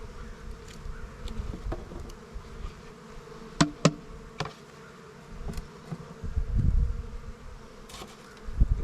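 A steady swarm of honey bees buzzes close by during a nuc hive check, a dense continuous drone with a few sharp knocks and thumps of equipment mixed in.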